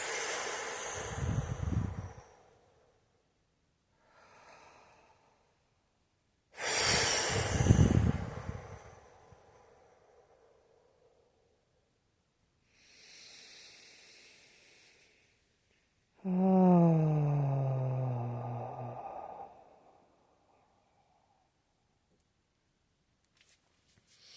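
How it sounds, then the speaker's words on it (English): Deep meditative breathing: slow, loud inhales and exhales close to the microphone, each lasting a couple of seconds, with quieter breaths and silent pauses between them and one longer voiced exhale near the end. "we breathe in the divine love and light. And we exhale all dark leftovers"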